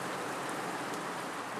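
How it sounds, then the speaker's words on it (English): Steady rain in the Amazon rainforest makes an unbroken, even hiss that fills the whole moment, with no voices over it. "That rain lasted more than any 30 seconds."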